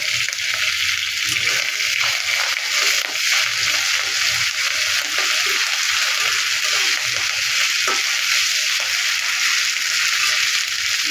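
Eggplant frying in a pan with spice paste, salt and onions, giving a loud, continuous hiss and sizzle with faint stirring and clatter and no talk.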